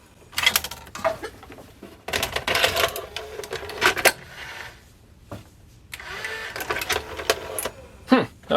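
A National NV870 VCR mechanism loads a test tape, giving a run of clicking, whirring mechanical bursts with short pauses between them and a sharp clunk near the end, all close by.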